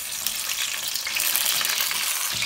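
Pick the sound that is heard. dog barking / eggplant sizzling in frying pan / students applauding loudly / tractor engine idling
eggplant sizzling in frying pan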